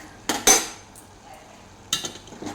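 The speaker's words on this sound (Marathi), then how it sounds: "ही भाजी शिजल्यानंतर मी आता एका चाळणीमध्ये काढून घेणार" Steamed wild greens are scraped from a metal pan into a sieve, giving a few sharp close clinks and scrapes of utensil on metal with a quiet pause between.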